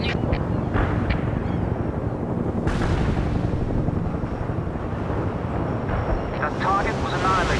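Artillery fire and battle noise from the World in Conflict video game rumble loudly and continuously throughout, with booming low-end impacts and whooshing, wind-like roar.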